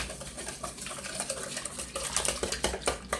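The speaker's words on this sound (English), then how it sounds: "And so I'm going to whisk that together." Milk mixture for bread pudding, made with 1% milk, is whisked in a bowl, giving a steady run of quick scraping clinks from the whisk against the bowl. The strokes are close up and rhythmic, with no voice over them.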